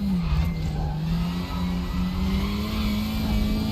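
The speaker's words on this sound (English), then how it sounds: "Over revving my engine a little bit there." A WTCR Honda Civic race car engine in the RaceRoom racing game at Zhuhai drones loud and steady at high revs, slightly over-revving, with continuous rising engine whine throughout.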